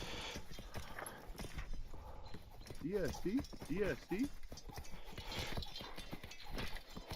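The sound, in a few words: horses trotting in a video game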